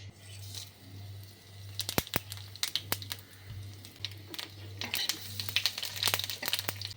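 Whole spices for Bengali mocha chingri (bay leaf, dried red chillies, cumin, cardamom, cloves and cinnamon) crackle and pop in hot oil in irregular sharp bursts over a low steady hum.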